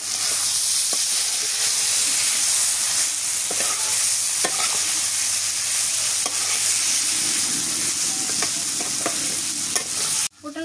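Pointed gourd (potol) slices fry in a pan with a loud, steady close sizzle and repeated stirring scrapes throughout, ending abruptly.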